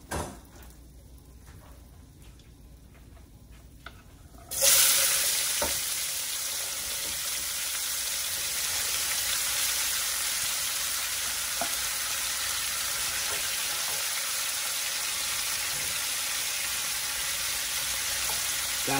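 Vegetables hit a hot pan in a loud burst of sizzling, then fry steadily with a constant hiss and occasional stirring scrapes while braised short ribs and lettuce burgers are being cooked at home; no talking.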